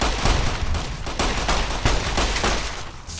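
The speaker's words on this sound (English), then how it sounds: "Might have been gunshots." Gunfire in a video game, a burst of rapid shots like a fusillade with repeated sharp cracks over a dense, noisy background, fairly loud throughout and no talking.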